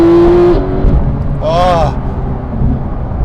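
A Porsche 911 GT3 991.2 engine revs high from inside the cabin, a loud rising then falling wail with a short, brief peak, heard under a person's brief exclamation.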